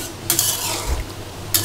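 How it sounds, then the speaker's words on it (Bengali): Fried onions tempered in ghee are tipped into a pan of vegetables, giving two short bursts of sizzling with a spoon stirring and scraping between them, close and clear. "বাগার দিয়ে দিচ্ছি, পেঁয়াজ ভেজে এর মধ্যে দিয়ে দিচ্ছি"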